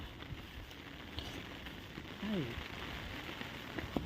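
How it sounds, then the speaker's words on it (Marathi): Soft, steady patter of light rain falling at Gaymukh, with a faint voice-like sound briefly audible in the background. "पाऊस पडतो आता थोडा थोडा."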